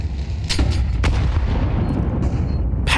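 Counter-Strike match audio: an incendiary grenade and gunfire, with heavy booming blasts and sharp shot bursts over a dense low rumble, loud and close.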